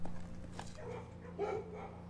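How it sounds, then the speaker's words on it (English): Dogs barking in the video game Blue Prince, a few short, muffled barks and a whimpering yip at moderate distance over a low steady hum. "we can tell by the dogs who were barking"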